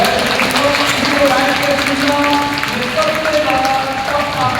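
Audience applause fills a panel discussion hall at a manifestation retreat in Delhi, a steady, dense clapping wash that holds throughout while voices carry on over it.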